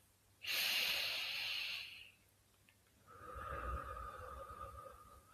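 A person takes a deep, audible breath: a loud, airy inhale lasting over a second, a short pause, then a softer, longer exhale, close and alone.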